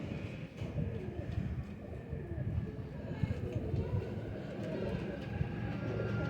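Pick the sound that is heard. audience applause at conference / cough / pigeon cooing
pigeon cooing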